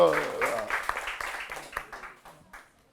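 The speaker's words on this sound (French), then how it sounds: "Applaudissez." Audience applause at a comedy show semifinal, a brief round of clapping from the crowd that starts under an overlapping voice and thins out over about three seconds.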